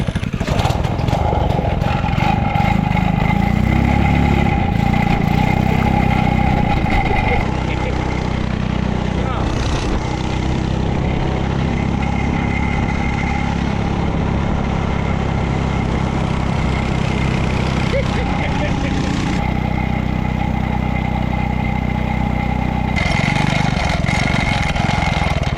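A small go-kart engine from a junkyard build, run at wide open throttle, giving a loud, steady buzzing drone with a few dips and surges in pitch. People talk briefly over the engine.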